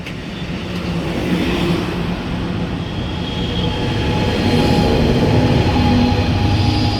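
A westbound freight train rolls past at Fullerton, a loud, close rumble that swells over seven seconds with clattering wheels and faint squeals.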